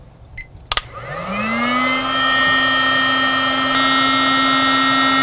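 A Kamado Joe Blow lighter switches on at its heat setting, a couple of faint clicks giving way to a loud, steady electric blower whine that spins up within a second and holds a constant hum throughout.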